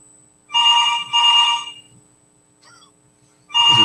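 A telephone rings during an outgoing call in two close bursts of trilling electronic ringback, a pause with a faint chirp, then a third burst begins, clear and loud.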